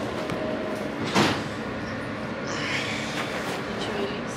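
Inside a New York subway, a train hums and rumbles while sliding doors thump and slide shut partway through, with ambient station noise and faint voices.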